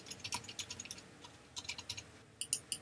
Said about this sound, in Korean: 엔터 키 칠게요